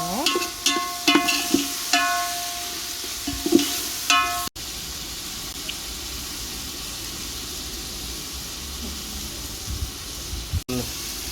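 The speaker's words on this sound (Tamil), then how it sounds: "வதக்கிக்கோங்க" Chicken with chilli powder and biryani masala being sautéed in a pot on a clay stove, with a steady sizzle and several clattering scrapes and stirs of a utensil early on, then a quieter continuous frying hiss.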